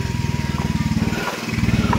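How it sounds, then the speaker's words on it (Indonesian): Loud, close motorcycle with no exhaust muffler, a rapid raw putter of engine pulses rolling past houses among rice fields in a rural village. "Aduh, suara motor sangat berisik tuh."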